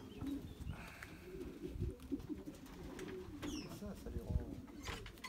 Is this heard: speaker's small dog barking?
no